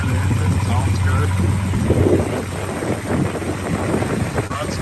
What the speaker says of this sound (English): there you can hear the engine, sounds good.